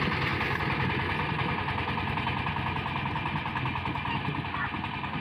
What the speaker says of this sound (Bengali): এই পাওয়ার টিলার দিয়ে 1 ঘন্টায় 1 একর জমি চাষ করা যায়